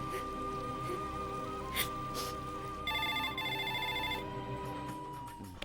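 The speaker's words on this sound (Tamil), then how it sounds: "அந்த ஃபோன் எடு." A telephone rings in a Tamil film scene, first as a faint, steady electronic tone and then as a brighter burst of repeated rings, over quiet background.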